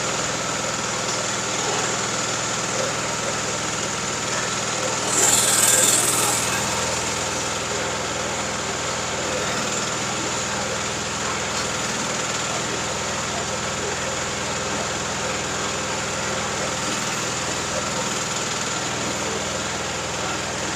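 The small motor of a GBU 30L drilling machine whirs steadily at a high pitch for the whole stretch, with a brief rise in intensity early on.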